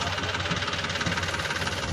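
Engine of a tractor or Hyva dump truck stuck on a muddy road between Dumaria and Kaluchak, running with a steady close rumble and a rhythmic knocking pulse at idle, with no voices.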